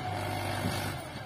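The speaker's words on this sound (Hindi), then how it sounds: "इस प्रकार से चल रहा है अभी ट्रैक्टर," A tractor engine runs with a steady, low rumbling drone while working a hillside farm field in Uttarakhand, heard close and continuous throughout.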